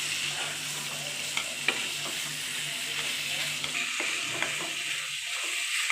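Masala being stirred into chickpeas in a frying pan for Kolkata-style chana masala, a steady sizzle with scraping strokes of a spoon running throughout, close and continuous.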